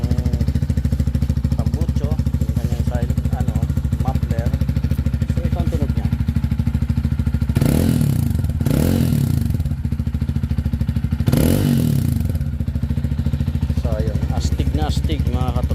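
Titan 250fi motorcycle, a 250cc bike, idles with a steady low engine drone throughout, rising in several revving surges, close and loud.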